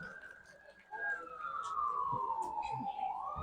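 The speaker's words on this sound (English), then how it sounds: "Hear the siren." A wailing emergency siren slides slowly downward in pitch from a distance at a middle school football game, with faint voices and background commotion underneath.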